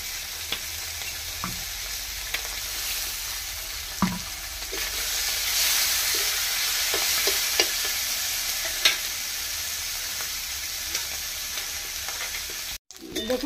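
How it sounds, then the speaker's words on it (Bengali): Pakal fish fries in hot oil in a pan, giving a steady, loud sizzle throughout with occasional soft clicks and scrapes of stirring and no talk. "পেকাল মাছটা আমার ভাজা হয়ে গেছে, আমি তুলে নিচ্ছি বাটিতে"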